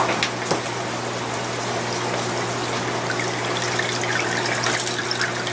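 A water pump fills a large aquaponics fish tank, giving a steady close trickle and gush of running water over a constant low motor hum, with no one talking.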